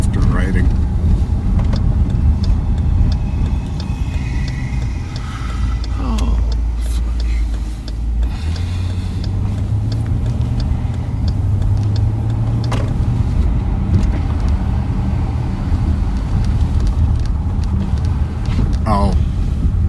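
A sheriff's patrol car rolls along with a smooth, soft ride, a steady low engine and road rumble with some wind noise running throughout while people talk over it.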